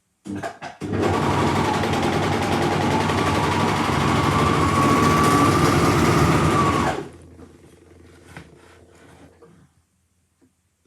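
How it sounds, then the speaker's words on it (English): A serger stitches and overlocks a fabric edge with a rapid, loud mechanical whir that runs steadily for about six seconds and then stops abruptly, followed by quiet handling clicks. "I'm just going to do it all on my serger all in one go because it will stitch it and overlock it at the same time"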